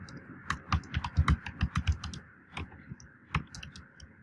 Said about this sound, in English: You could type in here, how to build my downline fast.